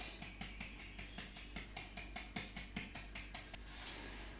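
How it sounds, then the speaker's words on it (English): A sieve holding flour and salt is tapped steadily for crumpet batter, giving a close, even run of sharp rhythmic taps, about three per second, ending in a soft hiss. "now I'm just going to tap, tap, tap, tap, tap, tap, tap until all my flour has been sifted"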